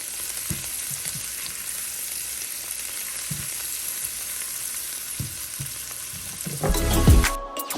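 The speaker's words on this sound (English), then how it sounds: "just let this simmer for 1 or 2 minutes" A Thanksgiving side dish with beans simmers and sizzles steadily in a pan, a continuous bright frying hiss with occasional stirring scrapes, ending in a louder burst of clatter as the pan is handled.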